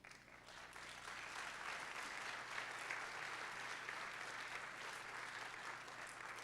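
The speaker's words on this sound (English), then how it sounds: "we're going to give them some thunderous applause" Sustained applause from a school band concert audience honoring percussion students, a steady, dense clapping wash at moderate distance that holds evenly throughout without talk.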